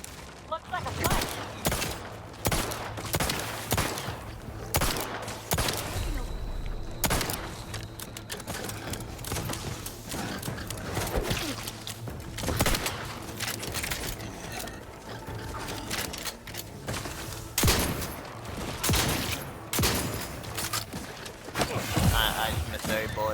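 Gunfire in a fight in The Outer Worlds 2, rapid bursts of sharp shots in irregular volleys across the whole stretch, mixed with game effects and a low steady hum, with speech-like sounds in the mix.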